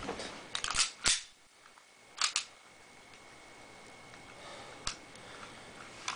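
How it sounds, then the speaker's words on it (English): A Taurus PT99 CO2 airsoft pistol with an empty magazine has its slide lock back, giving a few crisp, close mechanical clicks and snaps spaced apart in a quiet room. "Locking slide."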